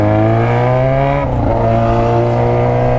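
A Yamaha Fazer 600 (FZ6) fitted with a straight pipe revs hard up close, its loud, harmonic-rich bark holding high, then dropping sharply before settling into a throbbing idle-like drone.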